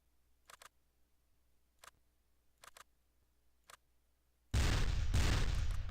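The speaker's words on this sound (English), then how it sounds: "More Civil War cannons." Civil War cannons firing in the video game Close Combat: a few sharp, distant-sounding reports in pairs and singles, followed by a loud, sustained roaring blast at the end.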